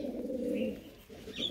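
A pigeon kept by a fancier coos in a low, continuous throaty rumble that pauses briefly and resumes, close and alone.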